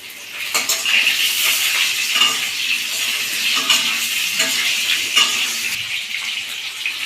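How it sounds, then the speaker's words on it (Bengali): Cut potatoes fry in a pan for a vegetarian green bean, potato, eggplant and lentil-dumpling dish while a utensil stirs them. A loud, continuous close sizzle carries scraping and clinking of the spoon against the pan, with no voices. "কেটে রাখা আলুগুলো আমি এর মধ্যে দিয়ে দিয়েছি।"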